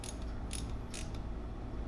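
A glow plug is worked in and out of the aluminum head of a VW TDI 1.9 ALH diesel, giving short ratcheting clicks and gritty metal creaks in a few quick bursts, close and with no talking.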